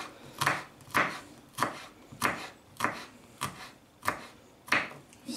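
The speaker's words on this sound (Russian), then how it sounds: "а потом режу очень мелко на маленькие кубики" A knife finely chops garlic on a cutting board, about eight evenly spaced crisp thuds, close and clear in a quiet room.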